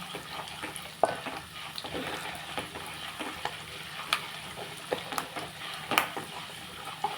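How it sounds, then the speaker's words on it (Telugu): Semiya upma frying in a pan with onion and green chili: a continuous sizzle with occasional scraping and stirring clicks from a spoon, close and steady. "ఉప్మా చేసి ఇలాగ కొంచెం వేగాక మనం ఉల్లిపాయ పచ్చిమిరపాయ కూడా వేసేస్తున్నాం"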